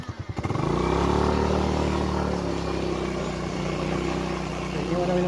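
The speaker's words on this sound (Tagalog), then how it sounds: "sakay na muna tayong motor." Motorcycle engine starting up and running steadily close by in a rural property setting in Cavinti, Laguna, a loud continuous drone that holds for several seconds as the rider prepares to move off.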